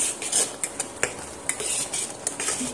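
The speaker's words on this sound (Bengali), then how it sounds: "দিয়ে এবার অনবরত কিন্তু এইভাবে নাড়তে হবে, নাড়া বন্ধ দিলে চলবে না।" Roasted semolina being stirred continuously in a pan over low to medium heat for laddu, with quick repeated close scraping and clinking of a spoon against metal, no talk.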